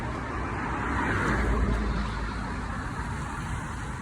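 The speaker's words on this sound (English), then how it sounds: "So there were 2 cars driving through red light and we had green." A car runs through a red light at a Korean street crossing, its engine and tire noise swelling as it passes close by and then fading into a steady traffic hum.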